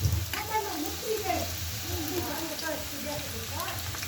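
Onions and tomatoes hit a hot pan for pav bhaji, giving a soft sizzle and frying crackle with some stirring, while a person talks over the cooking throughout.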